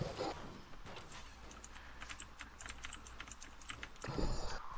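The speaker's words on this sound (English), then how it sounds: "Who's typing an essay?" Someone types quickly on a computer keyboard in a quiet room, the keys clicking in fast irregular bursts close by, with a couple of louder thumps at the start and the end.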